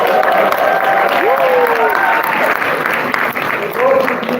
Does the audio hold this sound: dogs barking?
no